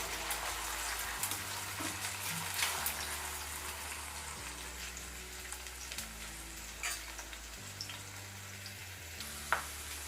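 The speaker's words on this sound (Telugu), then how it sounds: "ఈ ఆయిల్లో కట్ చేసుకున్న ఈ బెండకాయ ముక్కలు వేసుకోవాలి. వేసుకొని ఇవి కొంచెం కలర్ వచ్చే వరకు వేయించుకోవాలి." Cut okra pieces fry in hot oil in a home kitchen, a constant soft sizzle with occasional stirring clinks over a low steady hum.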